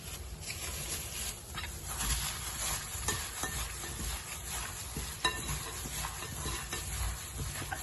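Minced meat being stirred and worked with a spoon into a garlic-ginger marinade in a bowl, a steady close wet squelching and scraping that runs throughout with no voices.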